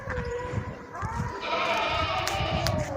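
A two-tooth Mazinpuri cross breeding billy goat bleats at a livestock market in Karachi, a drawn-out, wavering bleat close by over crowd chatter and market noise.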